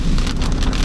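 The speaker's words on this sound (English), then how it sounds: "man, it is raining hard" Heavy rain pours steadily and loudly onto surfaces outdoors during a wet day of trash picking and scrap collecting, a dense, continuous hiss with no pauses.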